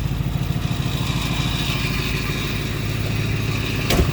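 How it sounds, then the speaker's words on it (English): A 2008 Ford Crown Victoria Police Interceptor idling with its exhaust rattling, a steady low rumbling engine drone with buzzy rattle, close and constant, ending in a brief sharp knock. "That exhaust is rattling like crazy."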